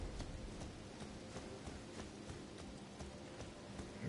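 Horse hooves clip-clopping at a steady walking rhythm in Elden Ring Shadow of the Erdtree, soft and fairly faint, a regular series of hoof falls with no talk over them.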